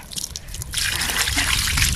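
Water poured and trickling over old wood during scrubbing for a DIY round picnic table, close and splashy, starting with a few spatters and settling into a steady gushing pour.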